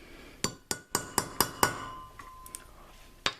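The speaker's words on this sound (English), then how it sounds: "it also helps then to take a punch and hit the center of this" A hammer strikes a punch into the plastic center of a Chevy S10 U-joint, six sharp metallic taps in quick succession with ringing decay, then a couple of lighter knocks and one final strike.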